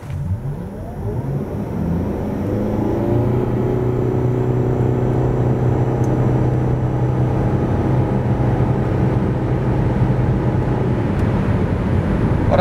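Mitsubishi Eclipse Cross engine pulling steadily as the car accelerates from a standstill to 100 km/h, a loud continuous drone with rising harmonic tones and road rumble, no voices.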